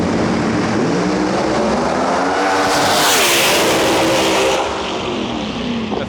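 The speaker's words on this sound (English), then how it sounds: "6th gen screw blown Camaro in our lane." A sixth-generation screw-blown Camaro pro mod makes a drag racing pass, a loud roaring engine sweeping past with a rising then falling pitch as it thunders by at full throttle.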